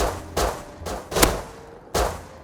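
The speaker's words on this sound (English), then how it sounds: "We heard gunfire back there before." Gunfire in the survival video game Rust: four sharp, loud single shots spaced irregularly, each with a short echoing tail, heard alone without talk.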